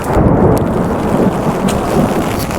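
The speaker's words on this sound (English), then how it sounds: "It's actually a crazy thunderstorm. I don't know if y'all just heard that." A deep rumble of thunder rolls through a heavy downpour in a Tokyo thunderstorm, loud and continuous, with rain hissing steadily over it.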